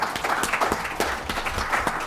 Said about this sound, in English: I'd like everybody to join me in giving our panelists a round of applause.